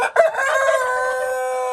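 Buff Orpington chickens in a coop give one loud close crow that rises and holds, drawn out for about a second and a half with no voices.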